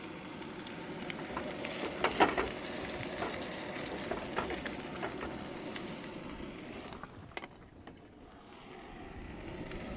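Potatoes sizzling and frying in a pan outdoors at a remote Arizona campsite, a continuous close crackle with small pops, easing quieter near the end.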